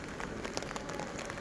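Steady rain falls after days of downpour, a soft continuous hiss with faint scattered drops tapping on a surface, quiet and without voices.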